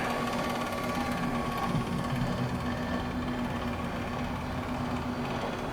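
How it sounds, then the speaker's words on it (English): Motorcycle dyno wheel clamp opening with a faint steady mechanical whir and hum of gears and motor, continuous and fairly quiet, without voices. "The wheel clamp will start to open to let this bike become free and pull out of the clamp."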